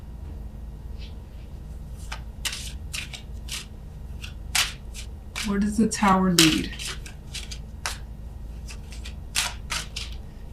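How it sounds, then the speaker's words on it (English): Cards are shuffled slowly nearby, with irregular soft snaps and riffles spread throughout, and a voice speaks briefly midway. "apologies for the shuffling here."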